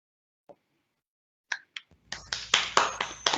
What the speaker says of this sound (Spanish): Ya descubrí que sí se puede aplaudir por aquí.